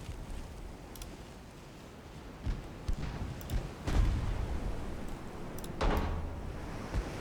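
Naval guns fire in a 1930s-era ship battle in Ultimate Admiral, several booming shots spaced a second or two apart over a low rumbling background.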